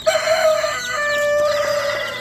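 A rooster crows loudly and close by among chickens and guinea fowl on a homestead, a single drawn-out call with faint clucking around it and no talk.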